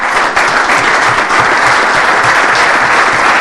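An audience at a talk held in a television workers' union hall applauds, with loud, dense, continuous clapping filling the whole stretch.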